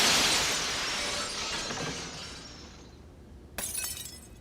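A plate glass window shatters loudly as a cartoon sound effect, a long bright crash of breaking glass fading away, then a short second burst of tinkling shards near the end.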